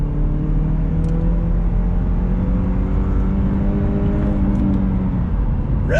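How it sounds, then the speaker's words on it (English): A 2021 Chevrolet Camaro LS turbocharged 4-cylinder engine drones steadily as it accelerates in third gear, the pitch climbing gradually under load, heard from inside the cabin with no talking. "We're in the 2021 Camaro LS with that turbocharged 4-cylinder engine. I'm in 3rd gear, on throttle."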